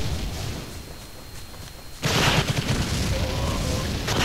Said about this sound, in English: You won't fucking shoot me point blank with a rocket launcher!